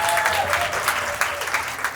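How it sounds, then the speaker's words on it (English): A roomful of people at a keynote event claps for onstage volunteers, a loud, dense burst of applause held steady for a couple of seconds with a faint murmur of crowd underneath. "a big round of applause to these brave bananas"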